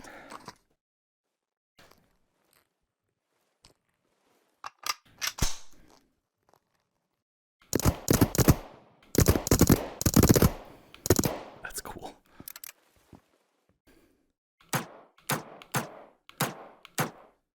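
Suppressed gun firing subsonic ammunition in the VR game Into the Radius: scattered soft thuds and clicks, then a dense burst of sharp, closely spaced reports and mechanical clatter, followed by a few more isolated shots.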